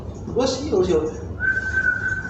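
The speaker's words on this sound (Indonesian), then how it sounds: "Maghrib, gua siul" A person whistles a short, steady high note at dusk, preceded by brief voice sounds, close and fairly quiet.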